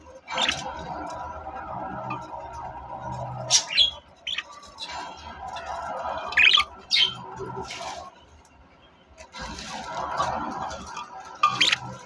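Budgerigars kept at home near their eggs give scattered squawks and bright chirps in short bursts, separated by quiet gaps, fairly close but not loud.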